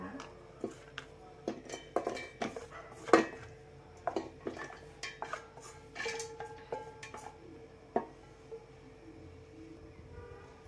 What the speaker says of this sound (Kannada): ಇವಾಗ ಜಾರಿಗೆ ಹಾಕೊಂಡು ರುಬ್ಕೋಬೇಕಿದು ಚೆನ್ನಾಗಿ.